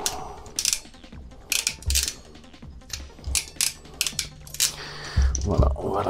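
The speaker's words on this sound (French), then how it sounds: "je prends ma pince à cosse ici" Ratcheting crimping pliers click and clunk repeatedly while crimping a spark plug wire terminal, giving a series of close, sharp mechanical bursts with brief pauses between them.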